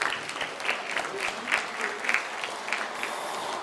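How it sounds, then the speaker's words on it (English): Applause at a community welcome dinner, fairly quiet and somewhat distant, with rhythmic clapping swelling in bursts and voices or cheers mixed through it. "one more hand of applause for our Native staff and faculty on campus."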